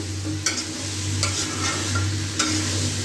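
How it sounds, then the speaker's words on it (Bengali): Hilsa fish with potatoes and vegetable stalks stirred and sautéed in a hot pan, with a steady close sizzle and a few sharp scraping stir strokes at regular intervals. "এখন আমি সুন্দর করে এটাকে কষাবো।"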